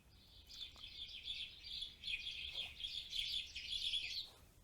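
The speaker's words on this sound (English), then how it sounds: "But if I hear a house sparrow," A house sparrow chirps repeatedly in quick bursts, fairly faint and steady throughout, with no one talking.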